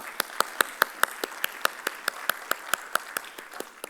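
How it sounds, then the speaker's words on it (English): Steady, evenly spaced hand claps ring out at a professional tax seminar, a sparse round of applause with distinct individual claps keeping a regular rhythm, moderately quiet and tapering slightly at the end. "with a big round of applause,"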